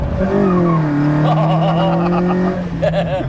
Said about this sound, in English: Second gear wheel spin.